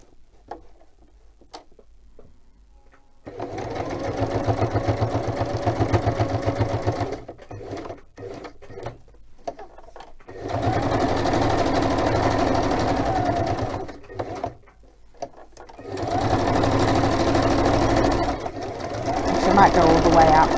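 Sewing machine stitching a pocket wide enough for a journaling card, running in several separate bursts with a rapid ticking rhythm, split by short pauses where a person talks.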